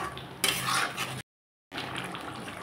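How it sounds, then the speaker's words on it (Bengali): Spice masala sautéed with potatoes in a pan for a chital fish belly curry, a close, steady scrape of stirring over a soft sizzle that cuts to silence midway, then resumes. "এখন মশলাটাকে আমি আলুর সাথে ভালোভাবে কষিয়ে নেব।"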